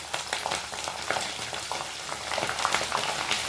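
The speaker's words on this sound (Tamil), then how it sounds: "இது நல்லா பொரியட்டு." Garlic frying in hot oil for a grape pickle, a dense continuous crackling sizzle with stirring scrapes, close and steady throughout with no voices.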